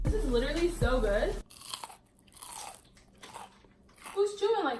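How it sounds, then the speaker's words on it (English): Crunchy chewing of food, close and moist, between stretches of people talking at the start and end. "Who's chewing like that?"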